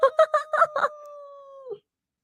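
A single drawn-out cat meow, starting with a few choppy pulses before settling into a long steady wail that trails off, close and clear with no talking.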